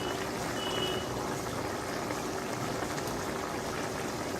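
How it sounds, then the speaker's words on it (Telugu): Jackfruit seed curry simmering village style in a covered pot, giving a steady, close bubbling hiss that runs evenly throughout with no voices. "మూత పెట్టి కొంతసేపు ఉడికిద్దామండి"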